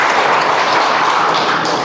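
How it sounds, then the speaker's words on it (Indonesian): A church congregation at a Sunday service applauds in a dense, steady wash of clapping from many hands that fills the room, loud and close, without talk. "Beri tepuk tangan untuk Tuhan."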